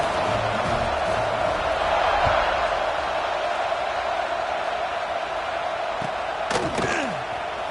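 A video game stadium crowd in Madden football roars with a steady, dense wash of cheering during a kickoff, loud and continuous throughout, with a few sharp knocks near the end.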